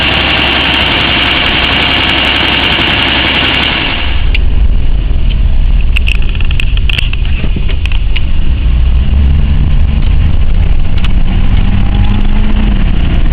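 A six-cylinder car engine, a Volvo 164E, runs loud and close. A higher, busier roar for the first few seconds settles into a steady low idle with occasional small clicks.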